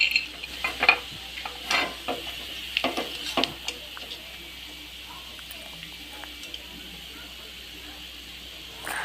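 Peanut banana pitha fry in hot oil with a soft, continuous sizzle, broken by scattered clinks and scrapes of stirring in the pan.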